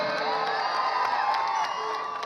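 An outdoor festival crowd at Belagavi Utsav, Channamma Circle, cheers and whoops for S. P. Balasubrahmanyam, a loud, sustained wash of voices with ringing shouts throughout.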